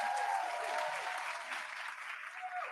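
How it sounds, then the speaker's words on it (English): A studio audience on a morning radio show gives a brief round of steady hand clapping. It sounds moderately distant, and a faint tonal hum runs beneath it. "Can I get a hand clap?"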